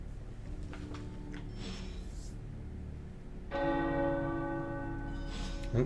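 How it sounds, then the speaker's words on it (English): Church bells ring out in the video game Marvel's Midnight Suns, a deep tolling strike followed by a louder, resonant peal that hangs and decays over a low ambient hum. "someone's ringing the bells again"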